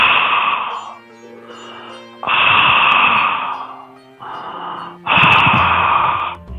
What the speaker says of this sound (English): you're breathing from the throat, you're making the sound from the throat.